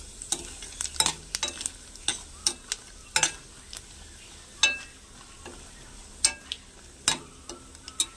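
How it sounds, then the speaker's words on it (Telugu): Cumin seeds fry in a pan under a soft continuous sizzle, punctuated by frequent sharp clicks and scrapes of a stirring spoon at an irregular pace, close by. "ఇది కలర్ చేంజ్ అయ్యేదాకా వేయించాలండి"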